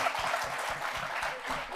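Audience at a national election debate on foreign policy claps in a short, moderate burst of applause, brief and somewhat distant in a hall.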